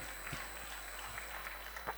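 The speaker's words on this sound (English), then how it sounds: "A bigger round of applause, dear ladies and gentlemen" Steady applause from a crowd at a school function in Bangalore, a continuous wash of clapping at moderate volume with no voices over it.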